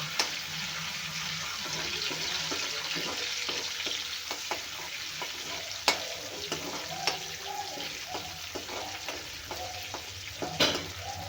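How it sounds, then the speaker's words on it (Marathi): Two red chillies and curry leaves frying in oil for a pickle, a steady crackling sizzle with scattered spoon taps and stirring clicks, one sharper knock midway; no talking. "दोन लाल मिरच्या कढीपत्ता आता आपल्याला हे छान फ्राय करून घ्यायचं आहे तेलामध्ये"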